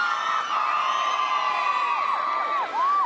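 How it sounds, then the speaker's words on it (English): A crowd at a New Year's Eve event cheers and whoops loudly, with rising and falling shouts layered together over a few seconds. Distinct clapping is hard to pick out. "Give him a round of applause."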